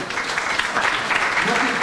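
Audience applause at a political evening in Le Chesnay, a dense steady clatter of many hands filling the room, moderately loud and continuous with no clear gaps.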